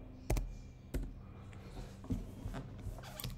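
A computer keyboard is tapped with a handful of sparse, quiet keystrokes spread irregularly over a few seconds, close and isolated against a faint background hum.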